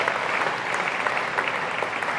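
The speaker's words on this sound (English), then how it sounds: "So round of applause to all you guys." A high school class reunion audience claps in a dense, sustained round of applause, steady and fairly loud throughout with no voices standing out.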